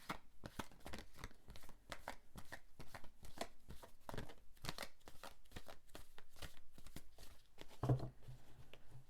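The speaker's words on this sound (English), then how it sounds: "I'm just preparing here, shuffling." Tarot cards being shuffled by hand at close range, a quick run of crisp riffling and flicking bursts with brief gaps, quiet and with no talking.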